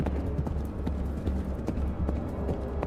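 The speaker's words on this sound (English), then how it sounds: "of a horse galloping near. And this sounds a little different from before. It's off in the distance." Horse hooves gallop in a quick, steady clip-clop rhythm over a low background rumble, distinct repeated beats at moderate volume, a spooky Halloween sound effect with no talking over it.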